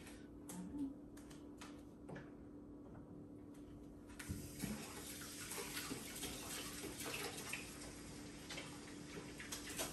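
Running tap water while hands are washed at a sink, a faint steady splash that grows fuller partway through, with light knocks early on.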